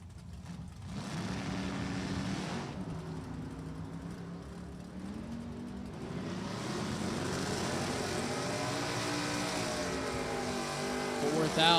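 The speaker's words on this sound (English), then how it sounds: "Kennecott, New Hampshire with the Porsche, and Sean Frex, Pontiac Firebird for accelerated travel" Porsche and Pontiac Firebird drag racing cars at a drag strip, their engines roaring continuously with rising and shifting pitch, heard at a distance under an announcer's commentary.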